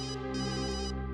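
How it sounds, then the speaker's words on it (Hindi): A mobile phone rings in a lab, a steady electronic ringtone of layered tones playing continuously, fairly quiet and heard alone. "घंटी तो लैब में बज रही है"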